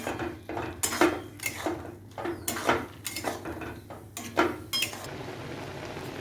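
Grated bottle gourd, salted so it gives off water, is stirred in a pan with a utensil: a close, irregular series of scraping clinks and knocks against the metal, with quieter stirring between strokes.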